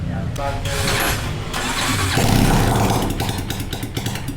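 A kickstarter-less motorcycle engine with an intermittently catching starter cranks and sputters as it struggles to start, loud and continuous, with a rough rising rumble near the end.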